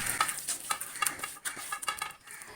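Coconut oil is worked by hand into a wet fish marinade, producing soft, squelchy stirring sounds in an uneven, repeated rhythm close by.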